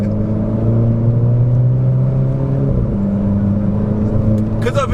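A Renault Clio RS engine pulls up through the gears, a loud steady drone with harmonics climbing and then dropping at a shift near the midpoint, heard from inside the car without talk.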